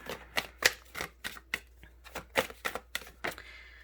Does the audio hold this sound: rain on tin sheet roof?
no